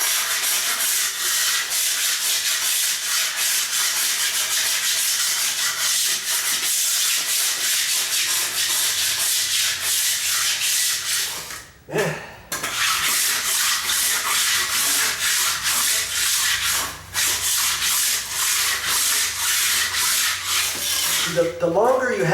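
A long-handled floor scraper rasps continuously across a floor, a loud close scraping drone with rhythmic push strokes, brief pauses near the middle and again later.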